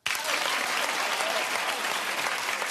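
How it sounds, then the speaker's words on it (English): Loud, full applause from a talk-show studio audience starts abruptly and holds steady throughout, a dense wash of many hands clapping together. "Clap if you think she should talk to the mother."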